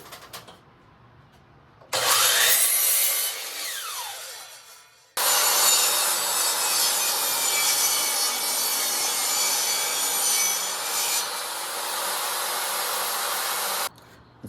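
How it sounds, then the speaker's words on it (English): A miter saw cuts lumber to length for a cat deck build, loud whining bursts with the blade spinning up, biting through wood, and winding down, alone without talk. "I still have the miter saw set up for the length cut"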